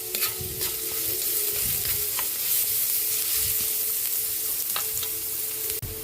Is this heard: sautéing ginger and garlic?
yes